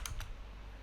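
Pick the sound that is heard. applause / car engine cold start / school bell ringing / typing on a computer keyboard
typing on a computer keyboard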